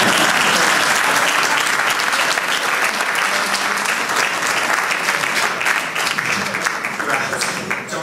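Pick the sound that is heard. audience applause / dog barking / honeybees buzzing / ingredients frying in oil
audience applause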